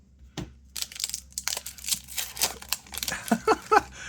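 A Magic: The Gathering Secrets of Strixhaven collector booster pack is torn open and handled, giving close crinkly foil rustles and crackles in irregular bursts over about four seconds, with no talking.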